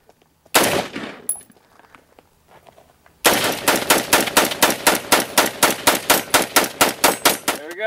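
A Bushmaster 5.56 rifle fires outdoors. A short burst comes after a first shot, then a pause, then a long run of rapid, evenly spaced loud cracks follows.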